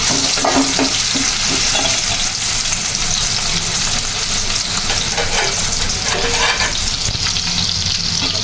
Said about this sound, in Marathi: गरम झाल्यानंतर ना कांदा टाकून घेतलेला आहे